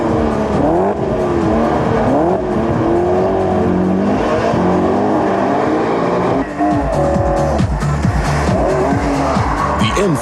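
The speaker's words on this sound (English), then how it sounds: "The M3 displays its good handling characteristics on the test track, particularly in wet conditions." A BMW M3 drives hard on a wet test track. The engine revs loudly and the tires squeal and skid through corners. A narrator speaks under the engine noise.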